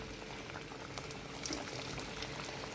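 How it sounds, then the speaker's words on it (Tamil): Wheat-flour samosas deep frying in oil, a quiet, steady bubbling hiss with faint occasional pops and no talk. "பாருங்கள் இந்த அளவு போட்டு எண்ணெயில் ஃப்ரை பண்ணிக்கலாம்"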